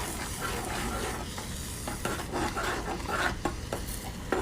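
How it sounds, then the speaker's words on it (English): A spoon stirs teriyaki sauce with a splash of orange juice in a hot pan for sweet teriyaki chicken, giving a steady close scraping swirl over continuous sizzling, with occasional utensil clinks against the pan. "And I'll stir it."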